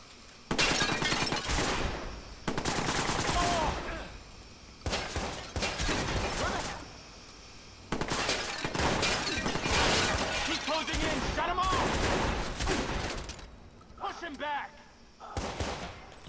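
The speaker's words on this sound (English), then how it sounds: "I love using the shotgun." Shotgun fire in the video game Watch Dogs: a string of loud, sharp blasts with short gaps between them, each followed by a brief ringing tail, continuing through the whole stretch of gameplay.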